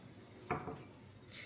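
A metal tray set down and handled while mixing Egyptian meat shawarma marinade with onion water, lemon and olive oil, a single faint clatter followed by quiet shuffling.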